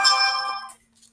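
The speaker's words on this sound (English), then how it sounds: "Excuse my phone." A mobile phone rings with a bright electronic ringtone for most of a second, near and fairly loud, then cuts off into near silence with a faint trailing tone.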